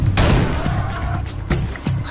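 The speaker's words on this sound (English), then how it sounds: "The shotgun" A shotgun fires in a zombie horde mod video game, with several sharp booming blasts at uneven intervals, loud and close, against a busy game background.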